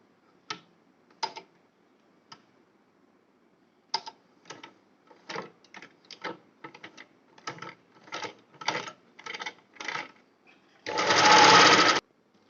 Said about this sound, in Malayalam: ഇനി ഇത് ഇവിടെ നിന്ന് സ്റ്റിച്ച് ചെയ്യുകയാണ്